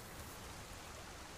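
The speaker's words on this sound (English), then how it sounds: "it's raining" Rain falls in the survival video game Subsistence, a soft, steady hiss of even, broadband patter with no breaks and no voices.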